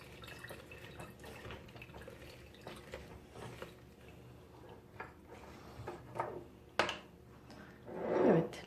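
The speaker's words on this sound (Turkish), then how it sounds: "limonumuzu da sıkıp limon suyumuzu da içerisine ekliyoruz" Fresh lemon juice is squeezed into a homemade cough syrup mixture, giving faint, scattered drips and small liquid splashes up close in a quiet room.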